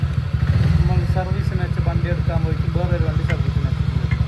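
A small scooter engine idles at a service centre with a rapid, throbbing putter, while a voice talks over it close by.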